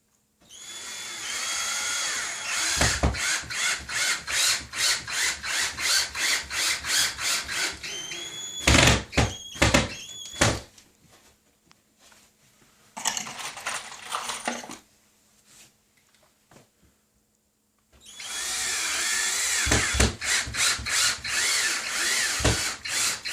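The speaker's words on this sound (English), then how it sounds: "you want the screw head to go in slightly so it dimples" A power drill drives a screw through drywall into a wooden stud in repeated loud, close bursts of whirring, with short pauses and a long final run.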